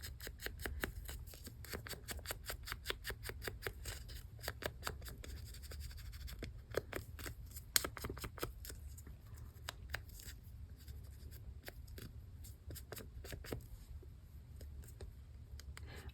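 Scissors trim washi tape on a paper bag journal in a quick series of faint, crisp snips and papery scratches, running steadily and close for a long stretch with no talking.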